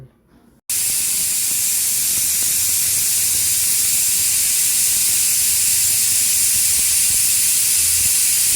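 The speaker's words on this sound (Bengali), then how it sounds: "দুটো সিটি দিলাম দুটো সিটি দিয়ে তারপরে আমি কুকারটা নামালাম" After a moment of near silence, a pressure cooker cooking mutton bursts into a loud, steady hiss of escaping steam that holds unbroken and close for several seconds.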